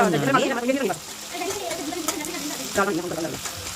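Tomatoes frying in a pan for bitter gourd curry, a soft continuous sizzle with occasional stirring scrapes, heard beneath a person talking.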